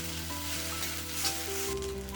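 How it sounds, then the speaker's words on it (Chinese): Kway teow noodles stir-fried in a wok with sweet dark soy sauce, giving a steady close sizzle with light scraping and tossing throughout. "加入黑甜酱，快速翻炒均匀。"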